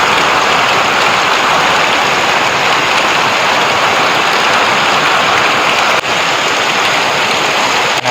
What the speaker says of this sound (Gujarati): કારણ કે વરસાદ જ એવો પડે છે